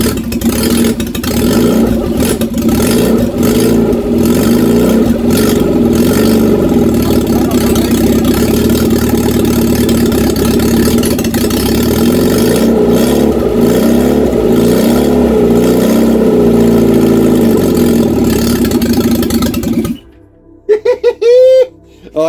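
A rebuilt Reliant Regal Supervan engine idles roughly and revs repeatedly, loud and close, with people laughing and talking over it before it cuts off near the end.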